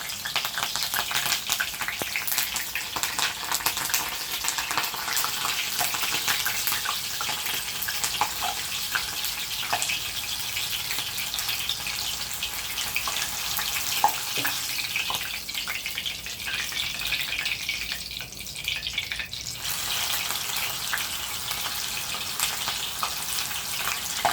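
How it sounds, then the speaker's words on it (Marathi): Green chillies frying in hot oil for Mumbai street-style vada pav give a steady, dense sizzle that runs the whole time, with small crackles and a few clicks standing out. "तर ह्या मिरच्या आहेत, या अशा तळायच्या."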